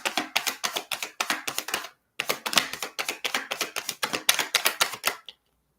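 Tarot cards being shuffled by hand in two bursts: a rapid run of crisp, close flicking riffles, a short pause, then another long run of dry card snaps, with no voices.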